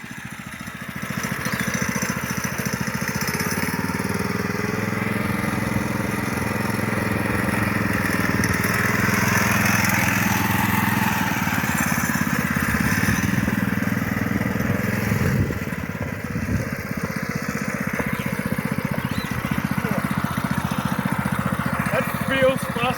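The Turf Surfer, a high-speed lawnmower, runs its small engine in a steady droning buzz that swells slightly as it moves, close and loud throughout, with voices talking over it.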